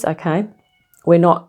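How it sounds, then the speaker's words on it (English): A person speaks briefly while a cat's meow-like cry blends in with the voice nearby. "Apologise for my cat, it's at the front."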